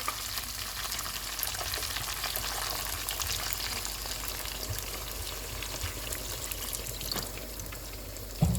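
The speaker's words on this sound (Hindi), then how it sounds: "अब मैं इसमें पानी डाल रही हूँ जितना हमें शोरबा चाहिए।" Steady sizzling and bubbling in a pot as water is added to mutton for shorba, a continuous wet hiss with occasional clinks, no voices.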